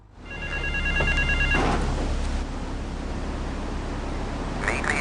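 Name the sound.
payphone ringing in video game Grand Theft Auto III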